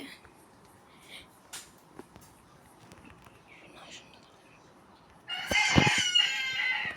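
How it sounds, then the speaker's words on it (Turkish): After a quiet stretch, a rooster crows loudly and close by, one long strained call that ends the clip. "Horoz ürüme."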